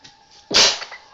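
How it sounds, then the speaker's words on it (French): One sharp, loud sneeze bursts out close by, a sudden explosive blast that tails off quickly over a quiet background. "c'est juste que j'ai éternué"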